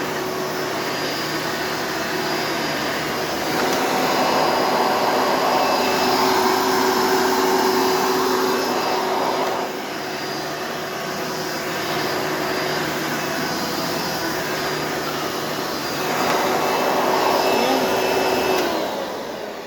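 A Hoover Elite 350 vacuum cleaner runs steadily nearby, a loud continuous whirring drone that swells as the cleaner works, eases off, then rises again, with no talk over it.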